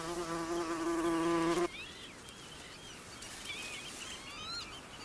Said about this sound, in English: In high summer, the Macaire hums with rare bees like the moss carder and the great yellow bumblebee